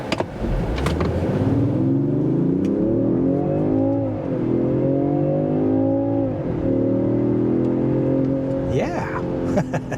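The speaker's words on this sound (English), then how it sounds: "I'm going to put it in this sport mode, and I'm going to see if I can control my own gears with the pedal shifters" 2023 Range Rover Sport in sport mode pulling hard with manual paddle shifts, the engine note climbing loudly, dipping at each upshift around four and six and a half seconds, then rising again, heard from inside the cabin while someone talks over it.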